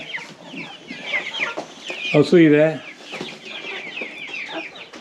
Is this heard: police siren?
no